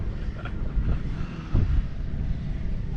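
Gusty wind buffets the microphone at a drag racing track with a low, uneven roar that swells in a couple of strong gusts.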